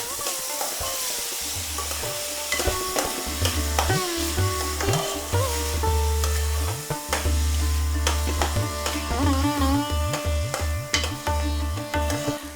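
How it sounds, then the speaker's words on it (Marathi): Soaked rice and cloves being stirred in hot ghee for Maharashtrian coconut rice, a continuous close sizzle with rhythmic scraping strokes of a spoon against the pan, no talking. "तांदूळ छान परतून घेऊयात या तुपावर."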